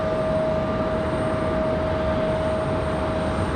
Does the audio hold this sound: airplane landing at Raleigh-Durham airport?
yes